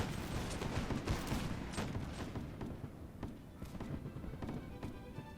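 Musket volleys in the Napoleonic battle game L'aigle, a loud crackle of many overlapping shots at first, thinning into scattered individual reports, with a voice briefly talking over the firing.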